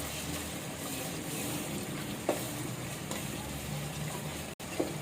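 Kasuri methi, Chinese salt and ground garam masala being stirred in a pan, a steady soft sizzle and scrape running throughout with a couple of brief louder knocks, no talking.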